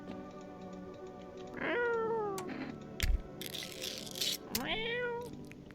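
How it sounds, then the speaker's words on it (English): A cat meows twice, each call rising and falling with clear harmonics, loud and close against a quiet room with faint background clatter. "Oh, the cat."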